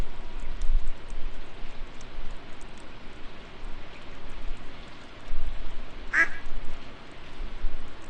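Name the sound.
duck quacking in the video game Stardew Valley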